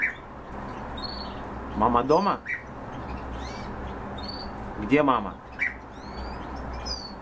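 A pet bird gives short chirps and squawks with two louder, rising call bursts, close up, while a person talks to it over a quiet background.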